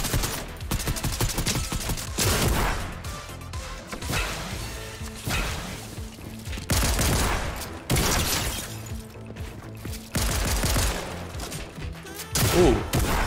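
Bursts of video game gunfire in Fortnite, rapid volleys of loud, close shots with cracks and impacts repeating across the span, broken by short pauses, with no talking.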